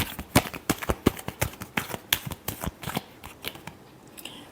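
Tarot cards being shuffled, a rapid series of crisp riffling snaps and flicks close by, fairly loud and irregular, with no talking.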